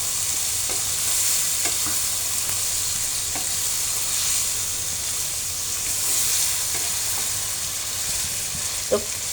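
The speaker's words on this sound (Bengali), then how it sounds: "আমি শুটকি আলুকে আরও 5 মিনিটের মতো কষিয়ে নেব।" Dried fish and potatoes stir-fry in a pan, a steady broadband sizzle and hiss running throughout with scattered faint clinks of a spatula against the pan; close and continuous, with no talk.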